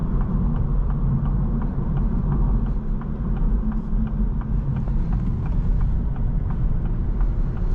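Steady low engine rumble and road noise inside a 2026 Acura Integra A-Spec accelerating in sport mode, a continuous droning hum with faint ticking and creaks from the cabin.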